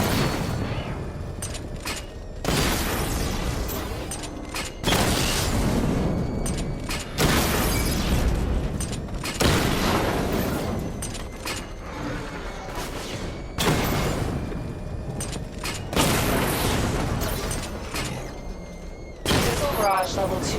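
Missile barrage fired in Batman: Arkham Knight, heard as a run of loud, booming volleys of explosions recurring every few seconds over a constant rumble, with a game voice speaking in places.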